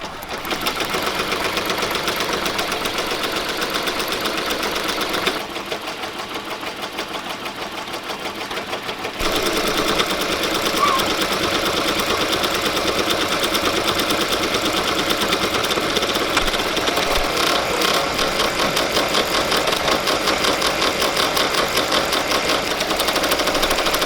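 An embroidery machine stitches steadily with a fast, even mechanical whir and clatter, close by, pausing briefly partway through before resuming louder without any speech.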